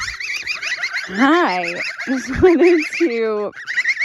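Rare Sebastopol geese honk loudly and close by, a run of harsh, strained calls rising and falling with several overlapping birds, almost no pauses between the cries.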